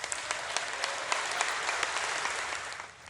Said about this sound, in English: Lawmakers erupted in applause after Army Commander Joseph Aoun won the majority of votes